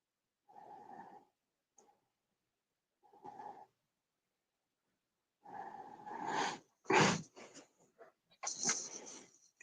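A sneeze indoors, preceded by a few short breathy intakes separated by quiet gaps, then a burst of louder snorting and explosive expulsions near the end, close and fairly loud.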